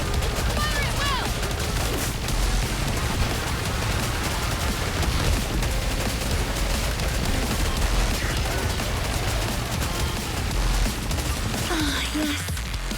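Continuous rapid gunfire in the mobile shooter NIKKE, dense overlapping bursts rattling on for the whole stretch with a few heavier booms and faint game voices beneath.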